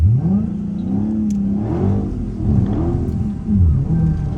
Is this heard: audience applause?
no